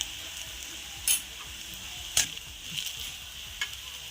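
Shallots and crushed chilli frying in a pan and being stirred with a spoon for Kerala pappada thoran: a soft steady sizzle with occasional sharp scraping clicks of the spoon against the pan.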